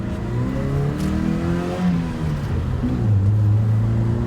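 A 2007 Toyota Tacoma SR5 2wd pickup with a 5-speed manual pulls through its gears. The engine note climbs, dips at each shift and rises again, loud and close from inside the cab.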